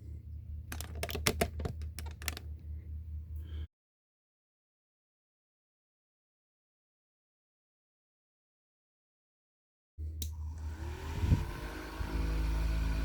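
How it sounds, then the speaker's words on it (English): A small 12-volt fan runs off a newly installed 12-volt outlet. A few sharp clicks come first, then a silent gap, then a steady close whir starts up and keeps going. "And a little 12-volt fan."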